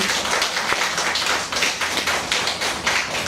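Clapping from a gathering at a Korean organization's monthly meeting and appointment ceremony, a close, busy patter of hands with uneven bursts and no talk.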